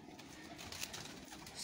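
Champion pigeons in a loft in Punjab give soft, close cooing calls against a light background hiss, brief and without speech.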